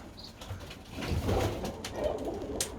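Birmingham Roller pigeons coo softly in a loft, low murmuring calls rising and fading over a steady room hiss, faint and somewhat distant with no talking.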